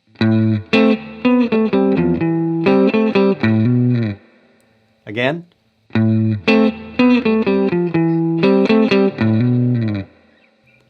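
Electric guitar with heavy effects plays a chunky repeating riff in two long phrases, broken by a short pause and a brief sliding note in between.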